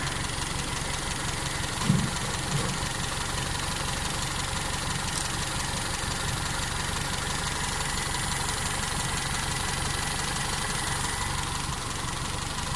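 An owner-type jeep engine idles at about 700 RPM after five months in storage, a constant even hum with no talking.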